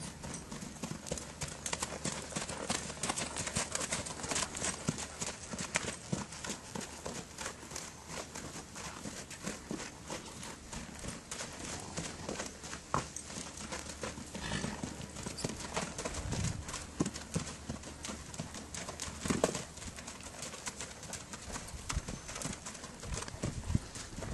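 A horse ridden through a barrel exercise makes continuous clip-clop hoofbeats on the ground in a steady rhythm, moderately close, with faint birds in the background.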